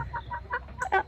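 A free-ranging backyard flock of chickens clucks in the rain, with several short, close clucks in quick succession and one louder squawk near the end.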